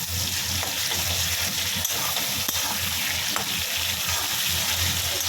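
Ginger and cumin paste sizzles loudly and steadily in a pan for a hilsa curry with potato and eggplant, a dense close hiss with a few sharp ticks of stirring.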